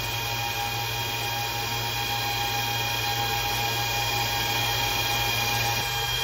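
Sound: Antminer S21 bitcoin miner fans running loud

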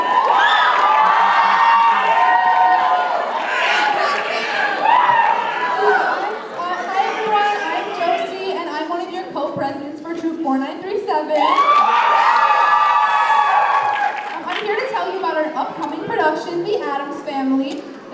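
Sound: talent show audience applause and cheering

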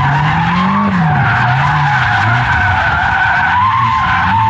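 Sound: BMW M5 F90 tires skidding while drifting

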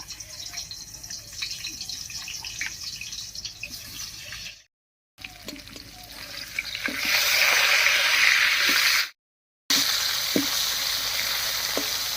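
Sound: fish head frying in mustard oil

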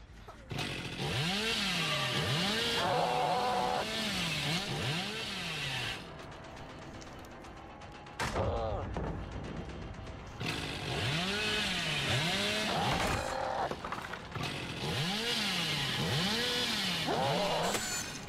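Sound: Hillbilly's chainsaw revving, from the video game

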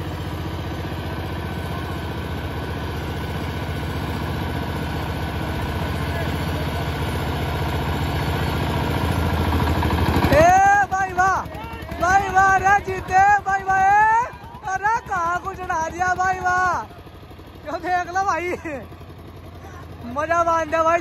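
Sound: Eicher tractor engine labouring while climbing

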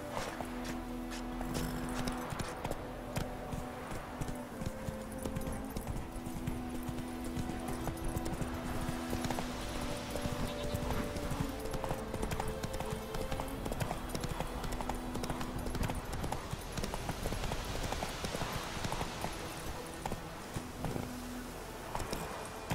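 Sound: horse Roach trotting hooves, from video game The Witcher 3

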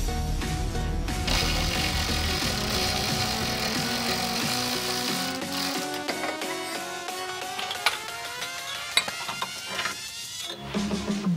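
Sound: electric ratchet loosening car sway bar end link bolts

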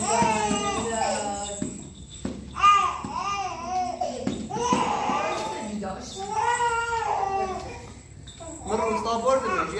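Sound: cat meowing

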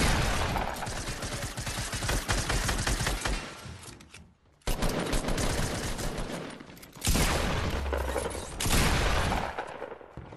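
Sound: shotgun firing in a video game

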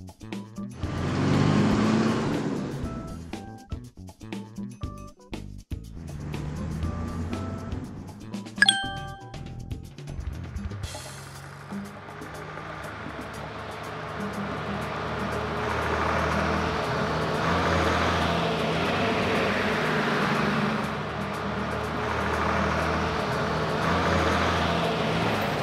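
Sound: school bus driving

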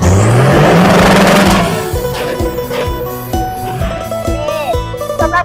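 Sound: six-wheel truck with six-cylinder engine revving

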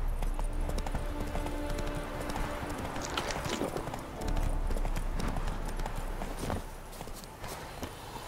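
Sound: horse Roach galloping, from video game The Witcher 3

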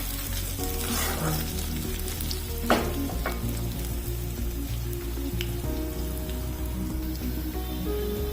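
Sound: onions frying in pan before adding vegetables

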